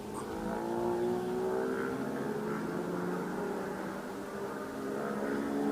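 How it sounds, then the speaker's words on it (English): A motorbike revs somewhere far off, giving a faint, rising and falling engine drone with drawn-out tonal sweeps under a steady background hum. "Sound like the boy racers are out on their motorbike somewhere."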